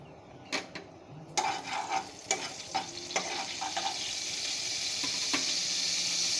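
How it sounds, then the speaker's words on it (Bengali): Nigella seeds (black cumin) frying in leftover potato-frying oil, giving a steady close sizzle with scattered sharp crackles and clinks of stirring throughout. "কালো জিরেটা একটু ভেজে নেব।"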